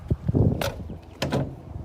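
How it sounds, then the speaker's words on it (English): A truck door being opened during a pre-trip inspection: a couple of close mechanical clunks and a scraping slide, with wind rumbling outdoors. "I'm opening the door and I want to check this door seal to make sure it's intact"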